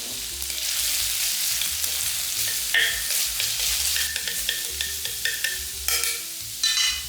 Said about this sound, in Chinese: 先开火预热，加少许的油进来，姜丝进来爆香